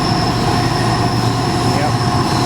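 A coal train rolls past up close, a steady, loud rail rumble with faint wheel squeal running throughout, with someone speaking over it.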